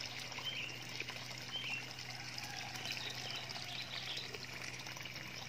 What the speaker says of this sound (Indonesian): aku pindah ke sini karena di sini airnya kan mengalir terus gitu ya